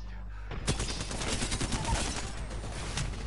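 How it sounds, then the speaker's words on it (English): Apex Legends gunfire, a loud fusillade of rapid shots starting abruptly and rattling on steadily for a few seconds, close and dense. "He's getting shot at."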